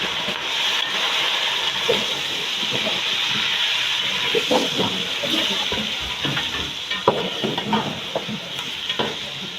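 Beef is stirred into garlic, ginger and garam masala sizzling in a pot for yakhni pulao, with a steady loud fry hiss and scraping stirs throughout, no talk.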